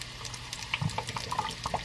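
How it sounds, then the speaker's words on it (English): A banana, berry and chia seed drink is poured over ice in a glass, a close, steady liquid pour with small clinks and splashes running throughout. "I'm just pouring this much over ice."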